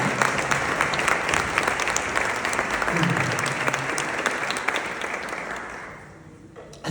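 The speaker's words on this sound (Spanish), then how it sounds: "Así que regálense ese aplauso a ustedes" A conference audience applauds loudly and steadily for several seconds; the clapping thins and fades toward the end.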